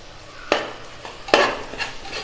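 Tomatoes and onions sautéing in a pan with a little rock salt, a spoon scraping and stirring in a few distinct strokes over a soft background sizzle, with no talking.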